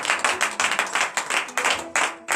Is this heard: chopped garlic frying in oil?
no